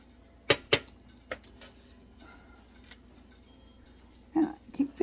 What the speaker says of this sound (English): Get it all stirred up.